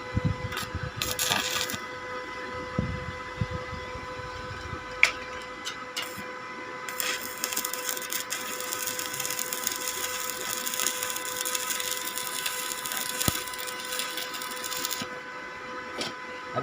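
A small stick welder lays a slow bead on an engine filter for a Honda CB100, giving a steady crackling sizzle with a constant electrical hum and bursts of sputtering, close and moderately loud, no talking.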